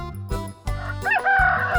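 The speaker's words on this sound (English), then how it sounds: "chicken" A chicken clucks in short bursts and a rooster then crows, loud and close, the crow rising into a sustained call.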